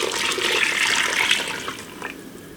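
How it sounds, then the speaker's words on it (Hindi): Water is poured into masoor dal in a pressure cooker, a steady close splashing rush of liquid that gradually eases off toward the end, with no talking. "दाल के अंदर हम पानी को ऐड करेंगे दुगना दाल से।"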